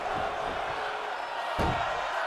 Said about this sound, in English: The crowd chanting one more time for Lady Smooth Jessica Kidd